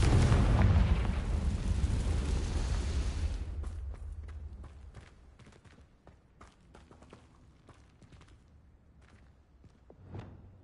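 A spell explosion in the video game Hogwarts Legacy, a loud deep blast that booms at the start and slowly dies away over several seconds into scattered faint clicks and steps, with a small thud near the end.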